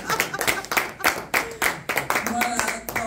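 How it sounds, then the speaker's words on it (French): A church congregation applauding in rhythmic, fairly close claps, a brisk steady beat of many hands over about three seconds. "Amen, acclamons."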